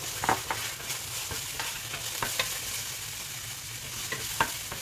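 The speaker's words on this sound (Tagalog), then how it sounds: "Lagyan natin ng kaunting mantika, no? Ayan. At ilagay natin yung ating" Onions frying in a little oil in a pan for chicken caldereta, a soft steady sizzle with occasional scrapes and stirring clicks, fairly quiet and without talk.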